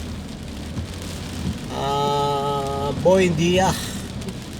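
Steady heavy rain hisses throughout on a street between Makati and Intramuros, Manila, with a loud tonal horn or chime sounding twice over it and a voice briefly speaking.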